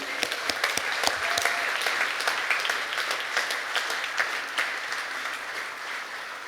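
An audience applauds award winners at a 2019 awards ceremony, a dense, sustained clapping from a large crowd that carries on evenly throughout, loud and close, with no talk over it.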